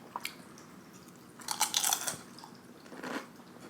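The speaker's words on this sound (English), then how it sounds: "I'm gonna take a bite." Crunchy bites into tortilla chips loaded with a seven-layer dip of cashew yogurt and guacamole, heard close up as a few short crisp crunches and chewing bursts with quiet pauses between, no talking.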